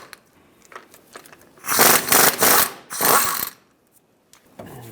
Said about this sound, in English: take these bolts out using a 15mm socket